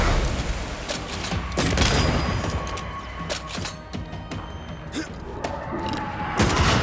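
Enemy gunfire in the video game Banishers: Ghosts of New Eden: loud, dense bursts of shots and heavy impacts crowd the scene, with a voice briefly talking through the din.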